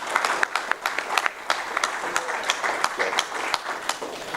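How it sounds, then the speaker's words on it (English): An audience claps for a guest at a talk on the US military, with dense, moderately loud applause and distinct individual claps standing out throughout. "Let's give Bill a round of applause."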